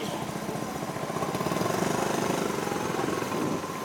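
A 1947 Harley-Davidson Knucklehead barn find, original and unrestored, running with a steady loping idle that throbs evenly, fairly close and alone without talk.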